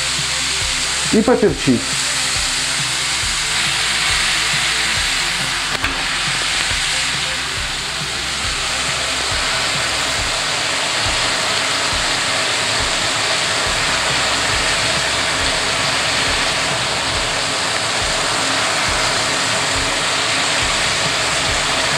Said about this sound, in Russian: Обжариваем печень на среднем огне в течение 10 минут.